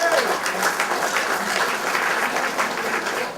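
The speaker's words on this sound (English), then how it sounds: "Please give them applause." Audience applause at a school reunion, sustained clapping from a crowd filling the whole stretch at steady loudness.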